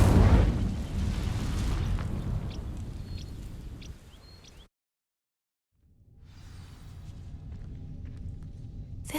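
Casting the Incendio fire spell on dry vines in the game Hogwarts Legacy sets off a loud burst of fiery whooshing that roars for several seconds. The sound cuts to brief silence, then a quieter crackling burn follows.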